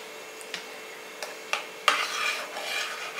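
Ragi batter being stirred into cooked rice in a pot: a few sharp scrapes of a spoon against the vessel, then a steadier stretch of wet scraping and stirring, close and fairly quiet.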